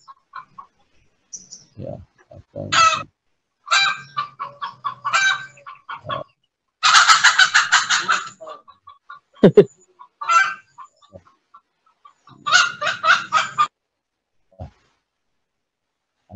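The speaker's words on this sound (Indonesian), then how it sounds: "ada suara ayam" Chickens clucking and squawking close by, loud repeated bursts of fowl calls in uneven clusters with quiet gaps, a voice speaking briefly between them.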